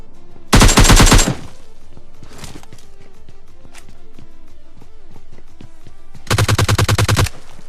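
Two loud bursts of rapid automatic gunfire from the PUBG Lite battle royale game open and close the stretch, with quieter footsteps and game noises in between as an enemy is knocked down.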